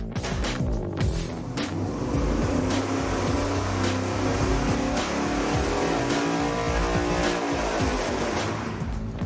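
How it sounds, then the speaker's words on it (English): A turbocharged MoHo engine fitted with 12-inch exhaust extensions roars steadily on a dynamometer, a loud, dense engine note that holds full power for the whole stretch with no voices over it. "Let's go dyno test it with 12-inch extensions"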